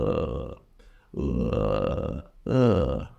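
A voice imitates a zombie groan with low, throaty, burp-like moans that dip in pitch like the Mandarin third tone, three close groans separated by brief pauses.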